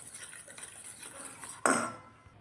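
A spoon stirs cocoa powder into cake batter in a bowl, soft scraping and tapping followed by a sharp clink of metal against the bowl near the end.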